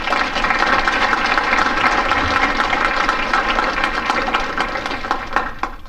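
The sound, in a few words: audience applause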